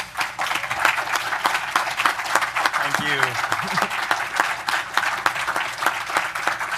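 Audience at a Power-Con convention panel breaking into steady applause, many hands clapping in a dense stream, with a brief spoken thanks from the stage near the middle.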